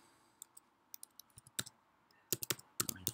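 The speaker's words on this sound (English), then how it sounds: "just type in your domain name" Keys clicking on a computer keyboard as a domain name is typed, close and crisp, with scattered single taps that turn into quicker clustered bursts toward the end in a quiet room.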